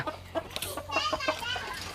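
Chickens and young roosters in a farm flock make short, repeated clucks and squawks close by, one call after another over low background noise.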